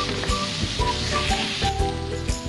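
Green chili and string beans sautéing in a pan for Bicol express, a close, moderate sizzle with scattered crackles and brief clanks, no talk.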